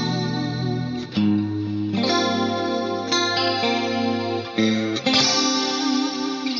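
A clean electric guitar through a Fractal FM9 plays sustained chords with a shimmering stereo chorus effect, light compression and a touch of reverb, changing chords every second or so.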